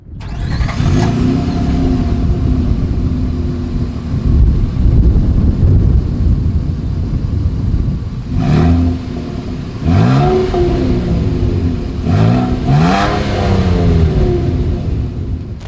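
A 2023 Nissan Frontier SV pickup engine idles with a steady low rumble through its single exhaust outlet, then revs up sharply three times, each rise and fall of pitch loud and close.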